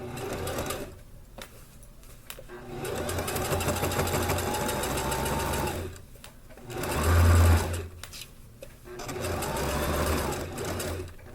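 A sewing machine stitches a zipper into a skirt with facing, running in steady mechanical bursts separated by short pauses, with the needle's rapid rhythm close and clear throughout.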